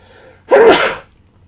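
A single loud, close sneeze during a Dungeons & Dragons game session, a sharp burst with a sudden onset and brief tail, set against near silence.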